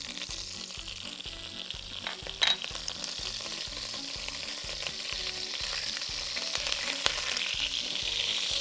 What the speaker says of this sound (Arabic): وهنحط الزبده بتاعتنا تسيح مع الزيت.